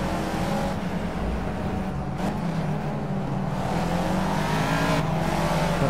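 Race car engines in the racing video game Project Cars, a Caterham Academy race, droning steadily and loud throughout, with shifting revs and a couple of brief sharper bursts.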